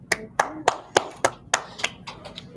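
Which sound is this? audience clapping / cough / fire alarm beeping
audience clapping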